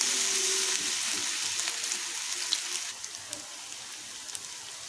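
Cauliflower pitha sizzling in hot oil, a bright continuous crackle with scattered sharper pops and spits, fairly close and without talk.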